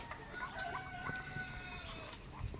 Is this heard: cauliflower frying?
no